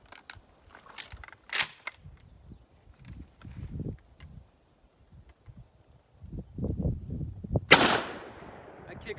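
A 16 gauge shotgun fires a 00 buckshot load of 16 pellets over long shot powder: one sharp, loud outdoor blast near the end, preceded by clicks, shuffling and footsteps as the gun is readied.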